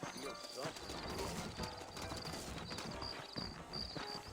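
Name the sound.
horses clip-clopping in the video game Red Dead Redemption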